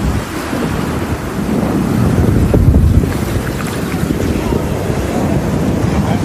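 A rough cyclone sea churns on the Cuddalore coast, with a loud, continuous roar of surf and gusting wind buffeting the microphone, steady throughout without pause.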